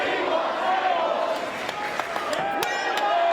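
A wrestling crowd at a live street-fight event in Sydney cheers and chants together in a loud, continuous roar, with scattered shouts and claps rising through it.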